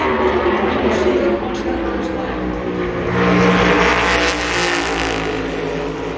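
Ford race car driven by Noah Gregson on a qualifying lap at Phoenix, its engine roaring steadily and swelling a little mid-lap as it runs the oval, with announcer talk over it.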